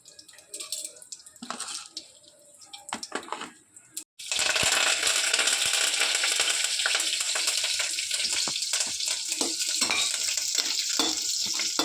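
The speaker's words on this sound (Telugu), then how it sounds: "కరివేపాకు 2 మిర్చి తాలింపు గింజలు వేగినవి." Tempering seeds, curry leaves and dried chillies dropped into hot oil for a village-style egg curry, quiet clinks and faint talk first, then a sudden loud burst of sizzling that stays steady and close.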